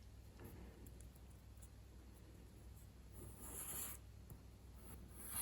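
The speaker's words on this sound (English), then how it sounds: "Just a bit more filing because of the heavier application of solder, but it comes off so quickly" Quiet, close scraping of a small file on soldered photo-etch brass detail parts for a 1/200 scale model of the battleship IJN Mikasa, in short rasping strokes, with no talk.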